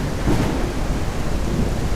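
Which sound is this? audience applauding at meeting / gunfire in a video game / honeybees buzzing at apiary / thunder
thunder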